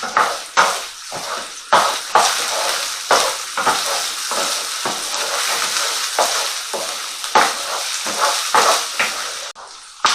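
Onions sizzling and frying in a pan, with repeated stirring scrapes at an irregular rhythm, close and loud.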